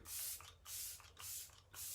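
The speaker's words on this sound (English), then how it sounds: "that is the Let It Set Refreshing Spray" Arbonne Let It Set Refreshing Spray is pumped in four quick hissing bursts, evenly spaced and close, each a soft airy mist with brief gaps between.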